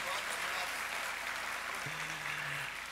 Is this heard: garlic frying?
no